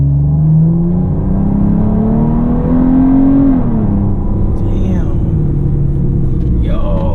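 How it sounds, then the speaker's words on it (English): A car engine drops a gear and revs up, its pitch rising and falling under load, loud and close from inside the cabin, with people talking over it. "it definitely downshifts way better"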